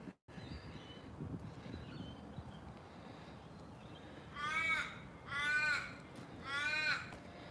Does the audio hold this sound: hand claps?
no